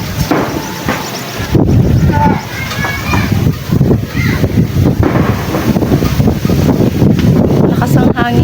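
Strong wind buffeting the microphone in a constant roar, with a voice talking under it and occasional knocks.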